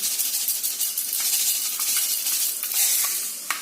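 Mustard and fenugreek seeds spluttering in hot oil, a steady loud hiss and sizzle broken by sharp little pops and crackles scattered throughout, with one distinct snap near the end.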